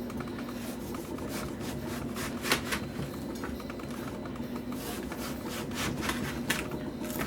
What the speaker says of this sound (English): And then we'll just cut the rind away.